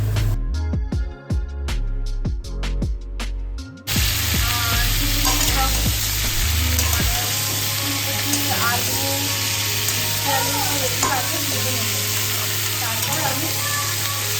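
Food fries in a pan with a dense, steady sizzle and occasional stirring scrapes, up close. Tonal sound and sharp knocks fill the first few seconds before the frying carries on alone.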